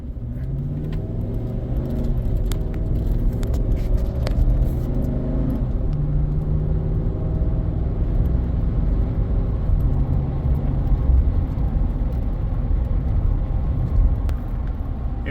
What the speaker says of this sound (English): So I'm taking off from a light here.